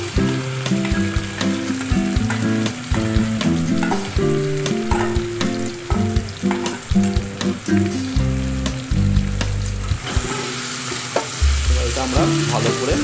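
Marinated chicken for chicken kosa fries in a hot pan, a continuous loud sizzle broken by repeated clanks and scrapes of a spoon stirring against the metal, with no one speaking.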